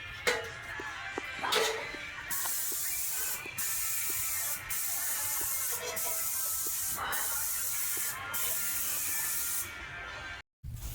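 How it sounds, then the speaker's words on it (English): A paint sprayer hisses in long, steady blasts while coating the exterior of a house with paint, the spray cutting off briefly several times, with faint clicks and knocks underneath. "as long as he's spraying the substrate, that's where the paint goes"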